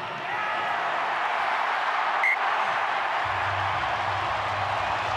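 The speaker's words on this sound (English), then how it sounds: "The crowd let you know it's good." A stadium crowd at a Wallabies versus France rugby test roars steadily after a successful Australian penalty kick, a dense, sustained wash of cheering and applause from a large crowd.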